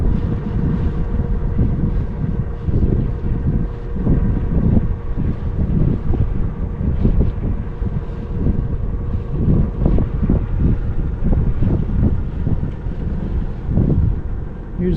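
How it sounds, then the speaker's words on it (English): A sailboat under way near Cypress Head, with constant gusting wind buffeting the microphone over a low rumble of water and hull noise, loud and unbroken throughout. "So we're just sailing along here, minding our own business"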